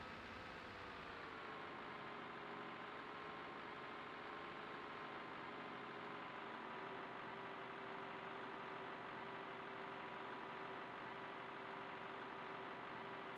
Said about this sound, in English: keep it running for 10 minutes or something like that, just to warm up the engine, because I don't want to put too much strain on the combine